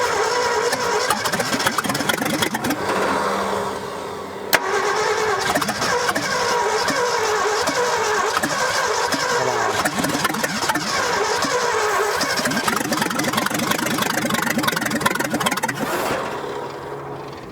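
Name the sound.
1965 Ford F100 engine cranking and starting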